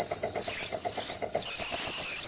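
An old steam train's whistle shrieks in four loud, shrill blasts, the first three short with brief gaps and the last one long and sustained, with the faint chuff of the small steam engine beneath.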